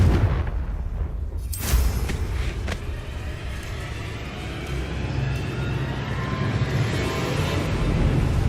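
Confringo fire spell explosion in Hogwarts Legacy, a sharp loud burst at the start followed by a long rumbling roar that stays dense and heavy to the end.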